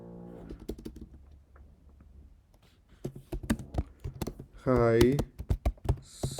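Close, crisp computer keyboard keystrokes while a scholarship application form is filled in. Sparse taps come first, then a faster burst of clicks, with a voice speaking briefly in between.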